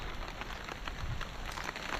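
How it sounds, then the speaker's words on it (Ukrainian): A heavy rain shower pours down on a riverbank by the Uzh river, a steady dense patter of drops close by on a shelter, with no voices. "Ливень пішов повністю. Хороший дощ пішов."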